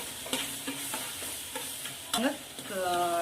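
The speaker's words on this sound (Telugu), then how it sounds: "ఈ ఎల్లిపాయ పేస్ట్ నేను పోపులోనే వేసుకుంటున్నాను" Garlic paste dropped into hot tempering oil with cumin for a sweet jaggery mango pickle, giving a close, steady sizzle broken by repeated stirring scrapes and a few clinks, with no talk.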